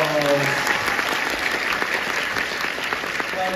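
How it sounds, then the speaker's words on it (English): A convention crowd at a Comic Con panel in Liverpool gives loud, sustained applause, a dense roar of clapping that holds steady throughout, with a voice briefly heard at the start. "Give her a round of applause."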